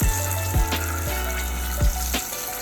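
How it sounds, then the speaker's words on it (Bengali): Three eggs fry lightly in oil with a steady sizzle and crackle, broken by a few low clunks and knocks of the pan or utensil. "3টে ডিম একটু হালকা করে ফ্রাই করে নিচ্ছি।"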